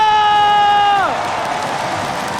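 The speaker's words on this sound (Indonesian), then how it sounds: "mana tepuk tangannya?" Crowd cheering and applauding at an esports Mobile Legends playoff match, a broad noisy roar that swells after a sustained tone fades, filling the space continuously.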